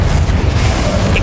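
Confringo fire-blast spell explosion in Hogwarts Legacy, a loud dense low boom that stays heavy and rumbling through the whole short burst, without talk.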